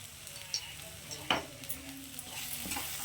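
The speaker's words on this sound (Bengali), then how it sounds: "এবার এটাকে সঙ্গে খুব ভালো করে মিশিয়ে নেব" Garam masala being stirred into okra frying in a pan at home, with a steady sizzle under scraping spoon strokes against the pan, close and fairly quiet, with no talk.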